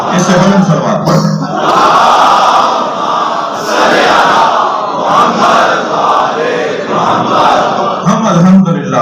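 A congregation, urged to raise its voices, recites salawat even louder, a massed chant of many voices surging in waves throughout, loud and close.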